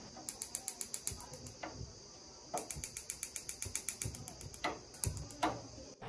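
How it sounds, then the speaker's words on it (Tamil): The auto-ignition on a Greenchef 4-burner gas hob clicks in rapid, evenly spaced bursts of sharp electronic ticks, in three separate runs with brief pauses between them. "Auto ignition."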